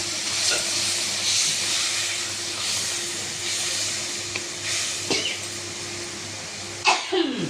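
A steady hiss of tamarind water sizzling in a hot pan for a tuna fish head curry, with occasional clinks and a sharper burst of sizzling near the end.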